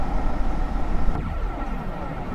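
A train passes nearby with loud rumbling roar, and a falling Doppler sweep marks it going by midway before the noise settles to a steadier rush.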